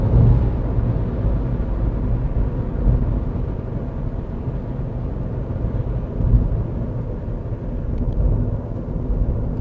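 A Dacia Logan 1.0 TCe ECO-G with a six-speed manual gearbox accelerates in sixth gear in traffic, giving a steady, loud low engine drone with road and wind rumble throughout and no talking.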